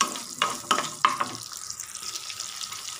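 Small onions sautéing in a pan for bitter gourd curry. A few spatula knocks open the clip, then a steady, soft sizzle continues alone.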